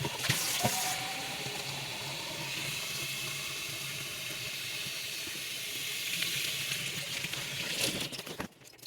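Tap water runs steadily into a container in a kitchen to refresh sweet potato slips, a broad even hiss and splash lasting several seconds before cutting off abruptly.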